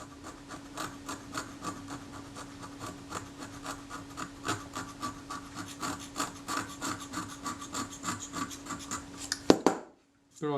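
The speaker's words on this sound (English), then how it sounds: "I'm just using the back edge of the scalpel here to scrape that at a very low angle." Scalpel back edge scraping at a low angle across an aluminium camera casting on a Kodak Retinette type 030/9, a steady run of short dry rasping strokes up close, then a brief pause near the end.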